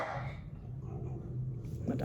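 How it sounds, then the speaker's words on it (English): A pet dog barks and whimpers faintly in the background of a room, muffled and distant, with no clear speech over it. "My dog's barking."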